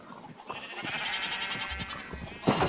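Sheep in Minecraft bleat in a continuous, wavering stretch at moderate volume, ending in a louder burst near the close, with no talking.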